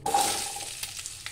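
Pumpkin pieces for a spiced dry pumpkin dish hiss and sizzle in a hot pan while being stirred, in a short burst that fades slightly with a few light scraping clicks toward the end.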